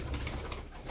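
Tumbler pigeon cooing softly in a loft, a brief low murmur close by under faint background noise.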